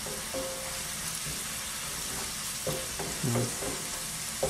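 A steak sears in a cast iron skillet with a steady, close sizzle, while scraping and stirring noises come in bursts near the end.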